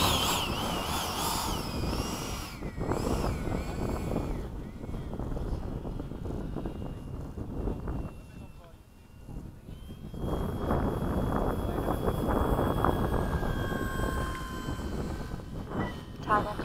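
A MiG-21 jet taxis out with a continuous loud engine roar and thin whining tones, buffeted by wind on the microphone and dipping briefly in the middle; voices may be mixed in.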